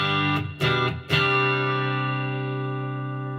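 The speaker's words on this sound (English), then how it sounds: "Turn on the reverb." Electric guitar chords through a Headrush effects unit with reverb on, struck three times in quick succession, then a long ringing chord that lingers and slowly fades with a spacious reverb tail.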